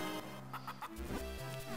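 Chickens clucking in the game Zelda: The Minish Cap, a few short cluck calls layered over continuous in-game music with no talk.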